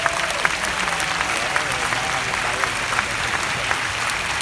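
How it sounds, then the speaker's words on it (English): Audience applause fills an Asia Pacific convention hall, steady dense clapping from a large crowd that holds evenly throughout, with a few sharper claps popping out near the front. "let's give a round of applause for all of the associates who are here at their very first Asia Pacific convention"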